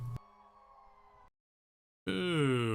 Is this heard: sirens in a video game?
yes